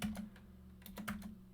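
Computer keyboard typing while configuring a router, giving a short burst of quiet close keystrokes, several light clicks in quick irregular succession, with no talk.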